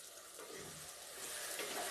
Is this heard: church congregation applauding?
no